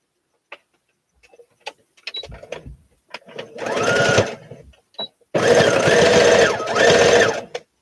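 A sewing machine stitching pieces of a Simplicity S8855 garment together runs in two bursts, a shorter whir followed by a longer steady run, after scattered clicks and light handling noises.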